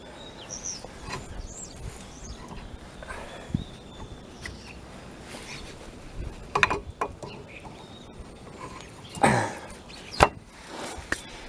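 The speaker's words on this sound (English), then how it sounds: "Let's grab the brake caliper. Get it into place." Metal clunks, scrapes and creaks come from a brake caliper being fitted into place on the front brakes of a Renault Megane, with a few sharper knocks near the end over quiet background rustle.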